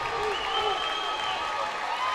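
A crowd at a high school boys basketball game roars and applauds after a dunk, a dense, sustained wash of cheering under a commentator's voice.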